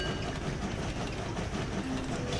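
Trains running in the Train Valley railway-building video game, a steady, dense rumble with a faint rhythmic clatter that holds at the same level throughout, with no speech over it.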